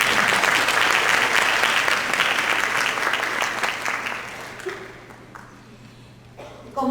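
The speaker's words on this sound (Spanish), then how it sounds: "Un aplauso para él." Applause from the audience at a forum on forced pregnancy and sexual violence against girls and adolescents: dense, loud clapping that holds steady for several seconds, then thins out and fades, with a few late claps at the end.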